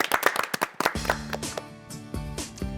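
A small audience of clinic patients gives a short burst of quick, sharp hand claps, which soon fades under music with a steady rhythmic beat.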